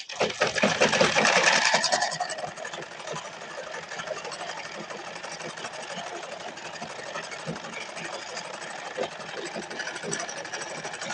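A sewing machine runs steadily close by, stitching the lining of a plain silk saree blouse. It starts with a louder burst, then settles into a continuous, even whir.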